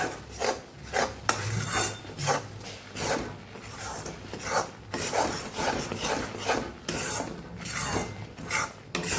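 Chickpea flour roasting in ghee for mohanthal, stirred slowly with a spatula in a pan, giving repeated soft scraping and rasping strokes in a loose rhythm, close and quiet with no talk.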